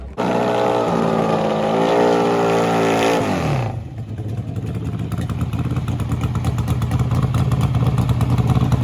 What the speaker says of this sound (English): what's unique about these motorcycles is there are no power adders, no turbochargers, no superchargers, no nitrous, all motor